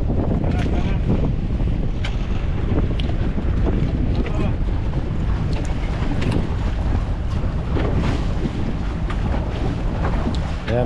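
Strong wind at sea buffets the microphone continuously, roaring loudly over the rush of water around a moving fishing boat, with no clear voices.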